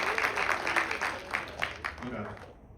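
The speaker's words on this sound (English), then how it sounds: "Let's give a round of applause for Stan." Audience applause after an introduction at a startup pitch event, a steady spread of clapping lasting a couple of seconds before fading out, moderately distant in a room.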